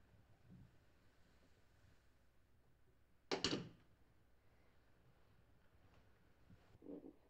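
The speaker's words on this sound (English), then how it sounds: "would you close the door?" A door in a 1964 black-and-white drama film closes with a single brief thud, heard midway through an otherwise quiet room with faint rustles and no speech.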